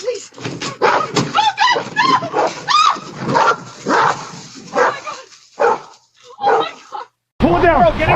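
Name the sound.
dog barking to save its owner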